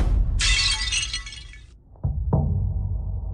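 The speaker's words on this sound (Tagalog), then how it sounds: "Nabasag mo! Isang bote lang naman yan." A glass liquor bottle shatters in one loud crash with a brief spray of breaking glass, followed by two dull thuds, close and prominent.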